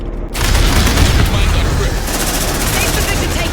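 Sustained machine gun fire in the Aliens: Dark Descent video game, a loud, dense, continuous roar of rapid shots with booming impacts, nearly unbroken after a brief quiet start.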